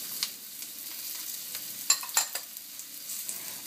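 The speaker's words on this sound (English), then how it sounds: "Then I'm gonna add in the rest of the lemongrasses, the finely chopped ones." Finely chopped lemongrass stir-fried in coconut oil for a tom yum stir-fry: a steady close sizzle with scraping stirs and a few sharper clacks of the utensil against the pan, no voices.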